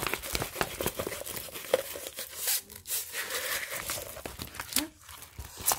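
Diamond painting canvas being rolled up by hand gives steady crinkling and crumpling rustles with a few sharper tearing-like crackles, close and continuous throughout.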